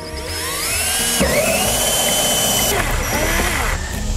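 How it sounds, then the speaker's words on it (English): A 1-inch hole saw on a drill whines at high speed and bites into a plastic drum, the pitch dropping and rising as the cutter loads and frees up, loud and close. "we'll cut the hole for the silcock or the spigot. That's with the 1 inch. 1 inch hole saw."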